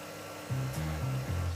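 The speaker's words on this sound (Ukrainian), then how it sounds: "Тихенько збиваємо." An electric mixer whisks a cheese-and-egg batter for a banana-berry cheesecake, starting about halfway through with a steady motor whine that wavers slightly in pitch, close and continuous.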